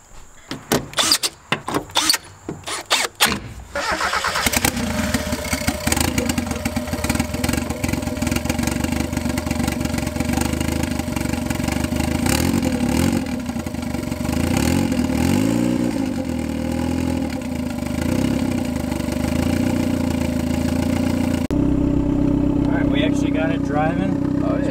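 Turbocharged 1.6L Mazda Miata with new fuel injectors and fuel pump, engine starting after some clicks and clatter, then idling roughly with a loud uneven throb nearby, with people talking over it.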